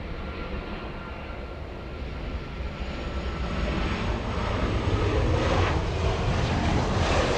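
A Lufthansa airliner's jet engines rumble at Los Angeles International Airport, a steady broadband roar building gradually louder over several seconds, moderately distant with no voices.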